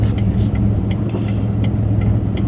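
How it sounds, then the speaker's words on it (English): A 2004 Ford F150 pickup with a power-loss fault revving in neutral, its engine a loud, steady low rumble with slight surges and a few faint clicks, no voices. "So I can rev it up in neutral."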